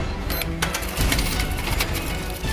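A cash register rings open with a metallic clatter and jingle of coins, loud and close, followed by busy rattling and clunking without any voices.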